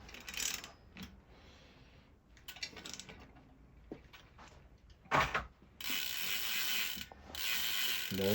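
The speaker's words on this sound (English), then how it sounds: "So now I'm tightening these down." A ratchet wrench clicks as the bolts on a BMX three-piece crankset are tightened down, giving close, dry mechanical ratcheting in short bursts with brief pauses and metallic handling noise between strokes.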